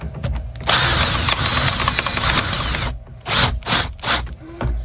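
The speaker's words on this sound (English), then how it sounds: "So I've got a 5/8 inch bit here, and I'm just going to try and countersink." A power drill with a 5/8 inch bit countersinks an already drilled hole in wooden shed door trim, whining loudly in several bursts: one long run and then three short pulses, close up.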